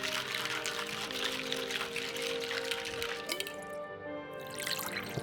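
Water pours in the video game Best Served Cold, a continuous trickling stream with light splashing that runs for several seconds and then thins out near the end.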